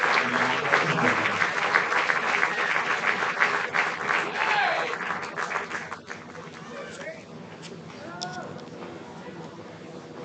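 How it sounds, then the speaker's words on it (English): A crowd at the Veterans Classic championship game between Post 22 Hardhats and Sheridan Troopers applauds the veterans in the stands, loud sustained clapping and cheering that thins out, with crowd chatter and voices underneath. "A round of applause there"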